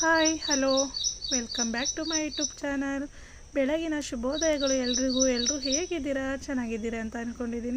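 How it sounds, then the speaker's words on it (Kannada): Birds chirp and tweet steadily in the early morning, high and bright, running beneath a woman's continuous speech. "ಈ ಹಕ್ಕಿಗಳ ಸೌಂಡೆಲ್ಲ ತುಂಬ ಚೆನ್ನಾಗಿ ಕೇಳ್ತಾ ಇದೆ ಚಿಲಿಪಿಲಿ ಚಿಲಿಪಿಲಿ ಅಂತ"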